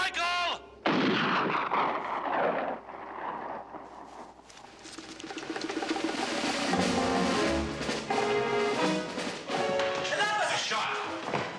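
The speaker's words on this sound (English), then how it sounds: "A shot!" A gunshot rings out near a watchtower amid a loud, busy dramatic scene, with sharp booming reports over a dense music-and-voices mix; people call out in the background.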